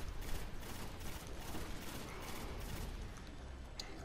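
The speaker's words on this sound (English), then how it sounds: "Ship is shooting at me" Gunfire from a hostile ship in the Destiny video game, rapid overlapping shots bursting into a rattling barrage that keeps going at moderate level, with no talk over it.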